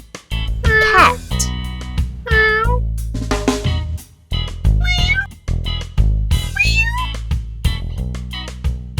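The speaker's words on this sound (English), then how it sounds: "Cat." A cat meows loudly and close, several drawn-out, wavering meows with short pauses between them.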